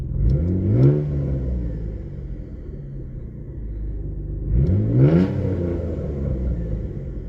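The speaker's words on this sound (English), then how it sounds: "Give her a couple revs." Mitsubishi 3000GT VR-4 engine revved twice, each a rising, roaring blip over a deep idle rumble, close and loud, spaced about four seconds apart.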